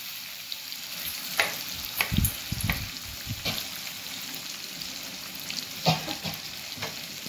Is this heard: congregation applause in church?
no